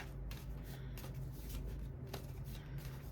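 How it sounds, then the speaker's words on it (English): Continuous riffling and rustling of tarot cards being shuffled close by, with a steady papery texture and no speech. "shuffle up these cards here"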